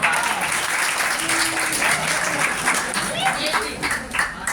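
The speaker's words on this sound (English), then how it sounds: "Please give a big round of applause to him." Audience applause at a college Teachers Day celebration as a teacher is invited to the stage, steady dense clapping throughout, with some talk mixed in underneath.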